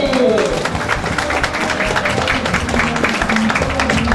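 Audience at an Islamic talk show breaks into applause to welcome the moderator, a dense, continuous patter of clapping from a fairly large crowd, with faint voices under it.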